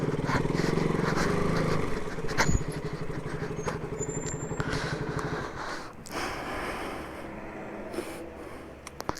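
A Yamaha R3 motorcycle fitted with a Yoshimura full-system exhaust idles nearby with a steady, throbbing low engine note that eases off partway through, along with a few faint clicks.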